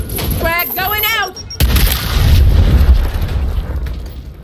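A frag grenade explodes in Gears Tactics with a loud, deep boom and a long rumbling tail. A voice speaks just before the blast.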